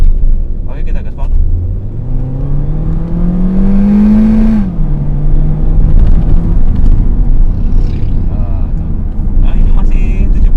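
Honda Jazz car accelerating hard at full throttle in S mode, engine note rising steadily in pitch for several seconds before a gear change drops it, loud and close inside the cabin.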